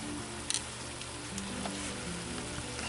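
Water deglazing the bottom of a Dutch oven for lamb stew hisses in a soft, steady sizzle while a wooden spatula stirs and scrapes, with a few sharper clicks and bumps near the start.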